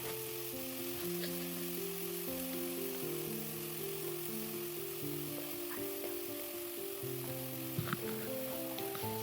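Chicken sizzles and fries steadily in a pan with onions and curry leaves for pepper chicken, a continuous close crackle with occasional louder spatters and no talking.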